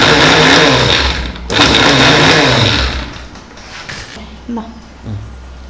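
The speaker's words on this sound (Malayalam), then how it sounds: "ചെറുതായിട്ടൊന്ന് പൊടിച്ചാൽ നല്ല ക്ലിയർ ആവും." A mixer grinder pulverizes dehydrated food into powder, running loud and steady for a few seconds, cutting out briefly, then whirring again before dropping away to a few short bumps.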